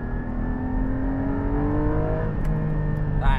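A Porsche 718 Cayman GT4 engine accelerating steadily, its pitch climbing through a long rev with no talking.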